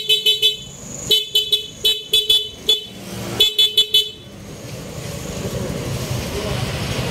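Stock horn of a Suzuki Gixxer 155 motorcycle beeps in quick bursts of short honks, several groups of three or four toots, loud and close, followed by a steady rumbling noise.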